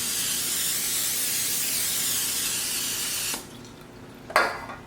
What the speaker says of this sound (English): take the butter spray and we're going to spray the tops really well